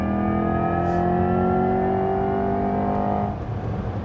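Corvette E-Ray hybrid with an electric motor and a 6.2-litre V8 accelerating hard from a standstill, a loud, steady rising engine drone with a faint electric whine layered in, heard from inside the car and easing off near the end.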